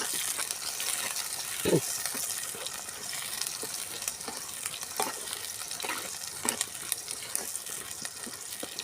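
Shallots frying in oil in a pan for a squid curry make a steady close sizzle, with occasional stirring scrapes and pops breaking through the continuous hiss.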